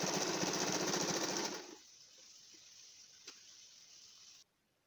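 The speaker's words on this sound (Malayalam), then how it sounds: "ഇനി നമുക്കിത് സ്റ്റിച്ച് ചെയ്തെടുക്കാം." A sewing machine stitches a small fabric coaster, running at a loud, fast, steady chatter for under two seconds and then stopping, leaving a faint hum and a single soft click.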